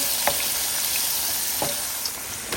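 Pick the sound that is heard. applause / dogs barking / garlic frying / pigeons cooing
garlic frying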